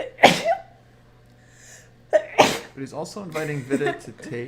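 A sharp sneeze bursts out early during a live chess commentary broadcast, then a second sneeze follows about two seconds later, with a voice talking right afterward.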